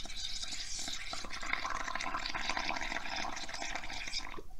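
Air blown through a straw into a container of bubble paint for a craft project, a steady close-up bubbling and gurgling that continues without a break and without talk.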